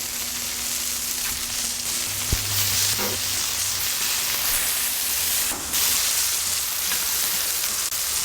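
Oklahoma-style smash burgers with onions sizzle on a Blackstone griddle, a steady close hiss of frying fat running throughout with a couple of brief metallic clinks from a spatula.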